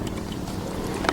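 Wind rushes past on a lake during kayak fishing, a brief steady low roar of gusting air against the microphone with a small knock near the end.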